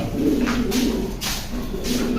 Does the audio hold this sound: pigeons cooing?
yes